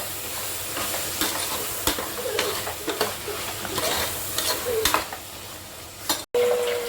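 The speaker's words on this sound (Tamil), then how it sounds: "நல்லா கிளறி விட்டுக்கலாம்." Vegetable rice with masala, mint and curd is stirred in a pan, a steady sizzling hiss broken by repeated scraping strokes of the spoon, near and alone.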